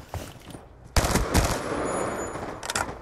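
Gunfire rings out in a video game, with a brief pop or two early, then after a short pause a dense, loud burst of rapid shots that runs continuously to the end.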